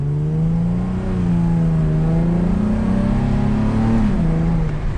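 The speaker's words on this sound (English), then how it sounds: "Hear that little VQ?" A mostly stock VQ engine in a 2007 Infiniti G35 Coupe pulls hard on a night drive, its steady rising drone loud and close from inside the car, with no talking.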